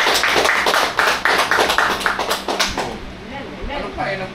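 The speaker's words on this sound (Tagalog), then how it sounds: "Pumalakpak yung mga anak ng Diyos." A church congregation claps together, a loud close burst of many hands in quick rhythmic clapping that fades after a few seconds as a voice begins speaking.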